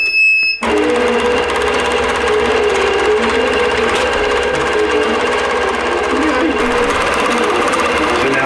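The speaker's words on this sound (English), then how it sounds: "It's taken its first stitch. I pull up my thread and I hit start." A computerized sewing machine stitches a row of quilting, starting after a brief moment of quiet and then running as a loud, steady, continuous mechanical whir with rapid needle chatter, with no talking.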